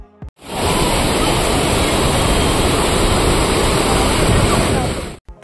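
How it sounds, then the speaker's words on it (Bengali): A waterfall at Panchalingeswar temple pours water continuously over stone Shiva lingams, a loud, steady, broadband rush that starts abruptly and holds unchanged to the end. "এই জলপ্রপাতের জল অবিরাম ধুয়ে যাচ্ছে শিবলিঙ্গগুলিকে।"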